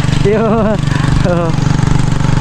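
A motorcycle engine runs nearby on a roadside in Iligan City, a steady low drone throughout with people talking over it.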